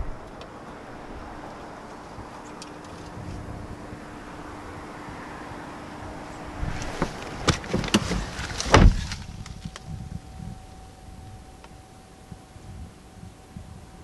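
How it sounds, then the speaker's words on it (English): A series of mechanical clicks and whirring motor sounds as a 2023 Mercedes EQB electric SUV unlocks and folds out its mirrors, including a sharp click near the middle, followed by a steady soft electric hum. "just grab behind the handle and we'll unlock the door and fold out the mirrors"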